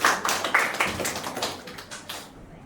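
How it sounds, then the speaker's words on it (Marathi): A talent show audience claps for the winner in a burst of quick, uneven applause. It starts fairly loud and gradually thins out and fades. "सो आदित्य ओगळेसाठी एकदा जोरदार टाळ्या"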